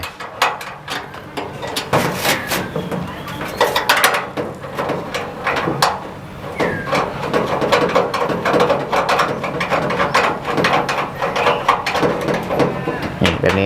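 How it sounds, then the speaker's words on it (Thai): A bolt is screwed into a 120 cm wall-mounted Turbo TBH-120 chimney range hood. Close, busy ratcheting clicks and metallic knocks repeat throughout, fairly loud, with mechanical rattling between turns. "จะมีช่องหัวน็อตอยู่ตรงนี้ฮะแค่หมุนเข้าไป"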